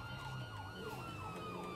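A police car siren wails in GTA V, a steady up-and-down wail rising and falling about every 0.4 seconds, loud and continuous with a low engine rumble beneath and no talk.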